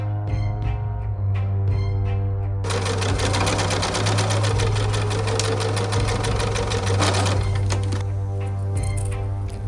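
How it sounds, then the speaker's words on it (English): Sewing machine stitching a fabric hem for a hand-embroidered pinafore, a continuous rapid whirring chatter that runs close and steady for several seconds, with a smoother hum before and after. "then just fold the fabric in half and sew."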